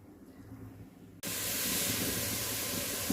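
A pressure cooker with potato and pea gravy bursts into a loud, steady hiss of released steam after a quieter lead-in, continuing close and unbroken.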